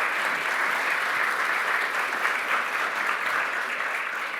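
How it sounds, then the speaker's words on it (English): Steady applause from a conference audience at an industry session on process automation, a dense even wash of clapping held at a constant level throughout. "Big round of applause."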